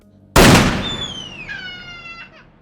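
A single sharp revolver shot bursts out loud and close in a tense horror film scene, followed by a decaying ring and a thin high-pitched whine that trails off.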